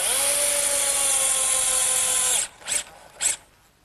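A power drill drives a 2-inch galvanized bugle head screw into cedar leg pieces, a loud steady whirring whine for about two and a half seconds that stops abruptly, followed by two short bursts of the drill.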